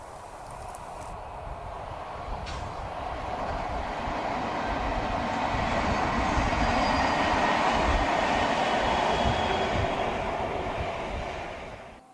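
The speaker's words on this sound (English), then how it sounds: "Two converted Class 69s had been working the weed-killing train in Scotland before hitching a" Two converted Class 69 locomotives haul a weed-killing train, a steady rumbling roar that swells gradually, peaks near the middle and holds before easing at the end.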